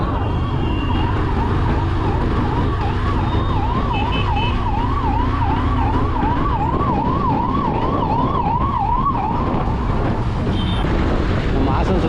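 An ambulance siren wails in a rapid repeating pattern over traffic rumble, holding steady for several seconds before fading as vehicles pass.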